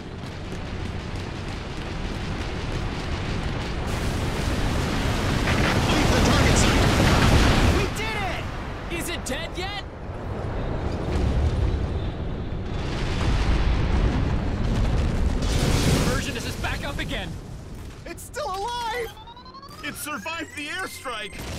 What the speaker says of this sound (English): Launch airstrikes.